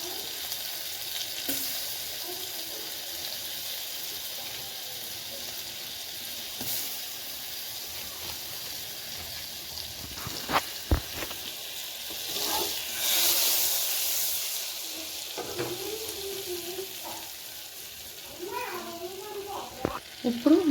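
Butter melting in a pan for a pasta white sauce, a soft steady sizzle and hiss with occasional scraping and stirring knocks, and brief speech faintly under it.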